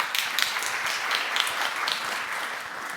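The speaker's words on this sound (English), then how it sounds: "Quick round of applause, please." A conference audience applauds in a lecture hall with dense, continuous clapping of many hands, steady and fairly loud throughout the three seconds.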